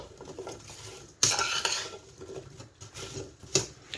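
Sliced apples being tossed in a bowl with spices and sugar, with repeated scraping stirs and clinks of a utensil against the bowl, close and busy, one sharper clatter partway through.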